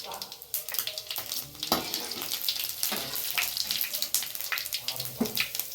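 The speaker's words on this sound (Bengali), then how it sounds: "দেখো বন্ধুরা, এই যে এবার সবজিটা সুন্দর ভেজে নিচ্ছি" Vegetables frying in a pan with onion, garlic, dried red chillies and slit green chillies, a dense close sizzle broken by stirring scrapes and clatters, with faint talk in the background.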